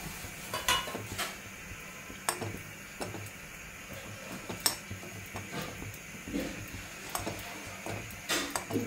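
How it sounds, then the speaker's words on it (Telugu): Grated amla (Indian gooseberry) with onions frying in a kadai, with a steady sizzle and repeated sharp scrapes and clinks of a spoon stirring against the metal pan, close and moderately loud. "ఈ ఉసిరికాయము తురుము మొత్తం కలిసి మనము ఇక బాండి తీసుకొని బాండీలో వేసుకోవాలన్నమాట. వేసుకొని ఇది వేపాలి."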